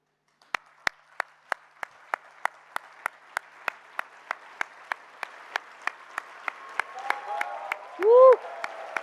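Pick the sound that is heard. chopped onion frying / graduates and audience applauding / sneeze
graduates and audience applauding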